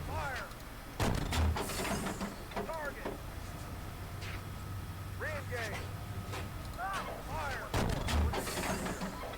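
A tank main gun fires in the Steel Beasts Pro simulator, giving two heavy booming shots several seconds apart amid engine rumble and battle noise, while voices speak over the action.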